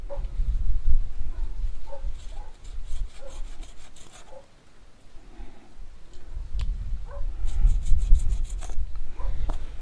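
Excess rubber of a tire repair plug being cut off on a Mercedes-Benz W126 flat tire, giving repeated rough rubbing and rasping strokes up close, with a short pause midway.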